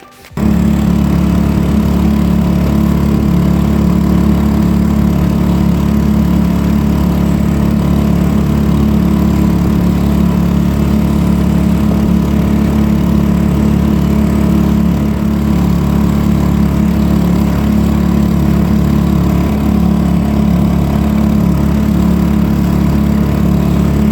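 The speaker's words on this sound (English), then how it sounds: "right now I'm leaving the engine to be on" A Honda BF2.3 outboard motor idles steadily with a loud, constant mechanical drone and a low buzzing hum that runs unbroken for the whole stretch, with no talking over it.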